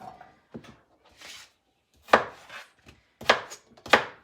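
A knife cuts food on a cutting board in a home kitchen, a few separate sharp chops with quiet gaps between them, the last three hits louder and close.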